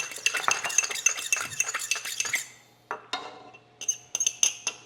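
A spoon stirs sugar and vanilla extract together in a bowl, giving quick, close, rhythmic clinks and scrapes that stop briefly and then start again in short bursts.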